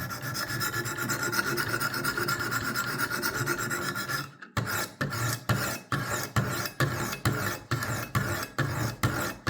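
A butter knife is sharpened on a Wicked Edge WE60 sharpener: a continuous close rasping grind, then a run of regular back-and-forth abrasive strokes, about ten evenly spaced rasps, loud and alone.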